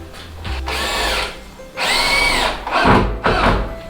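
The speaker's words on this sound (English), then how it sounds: "Probably run a screw every, a little over 1 foot or so" Power drill driving screws into wood while a side gusset is fastened, three long whirring bursts of the motor spinning up and grinding, close and loud, with short pauses between screws.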